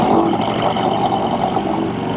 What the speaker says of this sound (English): He's got the Knucklehead engine in there.